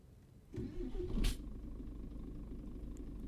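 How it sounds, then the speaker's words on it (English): Truck engine in a truck simulator game cranking and catching, a brief starter burst followed by a low, steady idle rumble, fairly faint. "Let's get the truck fired up."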